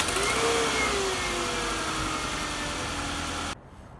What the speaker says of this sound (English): That was like that high-pitched whistling noise you heard.